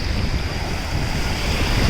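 Steady roar of sea waves washing in on the coast of Zakynthos, Greece, with gusting wind buffeting the microphone, loud and constant with no voices.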